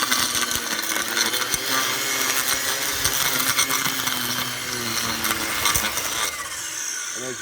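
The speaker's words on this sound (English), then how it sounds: "So that's the Ego edging attachment that goes with the power head." An Ego 56V battery power head fitted with an edging attachment cuts a lawn edge with a loud, steady whirring drone and gritty scraping throughout. The motor note lightens near the end, and no one speaks.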